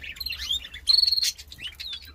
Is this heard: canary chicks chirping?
yes